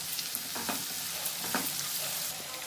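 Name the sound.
frying pulla upma on low flame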